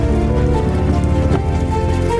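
Steady rain pours down with a dense, continuous patter, loud and close, no voices.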